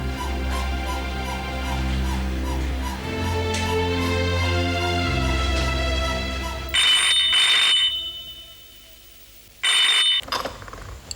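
A telephone rings in two short, bright bursts, entering after a stretch of soft background music and separated by a brief quiet gap.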